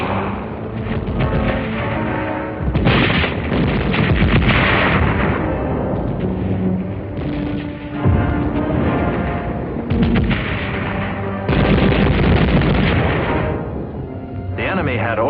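Wartime battle sounds from the Battle of Manila, rolling artillery booms and bursts of gunfire in repeated loud waves over about fifteen seconds, with a narrow, old-recording quality.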